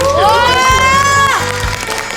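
An audience at a clown performance cheers loudly, with sustained shouting voices and a few thumps up close over a short burst of crowd noise.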